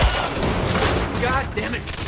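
Rapid gunfire fills a firefight in the video game Quantum Break, a dense fusillade of shots and booms that carries loudly and continuously, with voices shouting beneath it.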